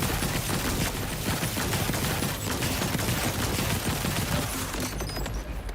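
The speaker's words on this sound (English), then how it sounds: "Let's try the rockets on this thing." Rocket fire in the video game Borderlands 4 comes as a dense, continuous barrage of loud blasts and crackling explosions, sustained at full volume with no pauses or talk.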